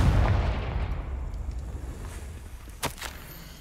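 A Confringo fire spell in Hogwarts Legacy lands as a deep booming blast that rumbles and fades, followed by a sharp crack near the end, with no talking.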